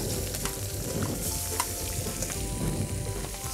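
Shrimp tossed in a hot pan sizzle and fry steadily, with a continuous crackling hiss and small stirring clatters, close and alone.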